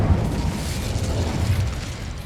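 An Incendio fire spell in a video game bursts into a dense, rumbling roar of flames, a steady low whoosh holding for a couple of seconds at moderate loudness.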